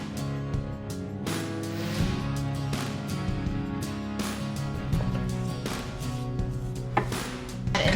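A knife trims fat off a raw brisket on a board, with repeated short cutting and scraping strokes in an uneven rhythm, close and steady, over a faint low hum.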